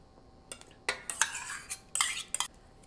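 Yogurt spooned into a blender jar for mango lassi, with several short scraping, clinking knocks of a utensil against the container, spaced irregularly and fairly close.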